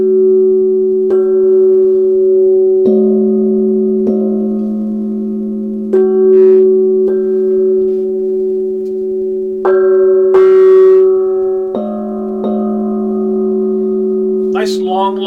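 A bossed gong is struck again and again, each hit adding to a loud, steady, ringing tone that hangs on and blends into a continuous, focused hum across the whole stretch.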